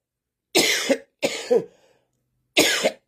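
Three harsh, close coughs: two in quick succession, then a pause and a third, with silence between them.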